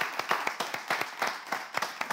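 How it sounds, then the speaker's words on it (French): A television studio audience on a French evening show claps for a brand creator, with loud, rhythmic, fairly close clapping that pulses in uneven bursts for a couple of seconds. "Est-ce qu'on peut juste déjà applaudir cette grande dame,"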